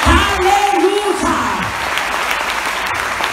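A church congregation applauds after a call to clap for God, steady dense clapping and crowd noise with a voice calling out over the start, continuing evenly to the end.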